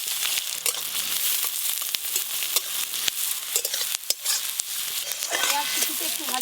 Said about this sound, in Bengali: পেঁয়াজ কুচিতে একটু ভাজা ভাজা হয়ে গেছে।